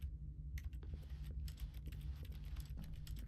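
Keyboard keys clicking in The Stanley Parable, a quick irregular run of sharp taps close up over a low steady hum.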